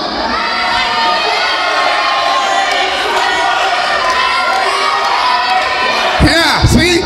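Loud wrestling crowd at a live event cheering and shouting steadily throughout, a dense roar of many voices with children's yells, swelling with a few sharper bursts near the end.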